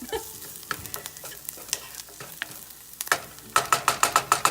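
Ingredients browning in a pan for broccoli cheddar soup: a soft sizzle with scattered utensil clicks, ending in a quick run of rhythmic scraping strokes close by.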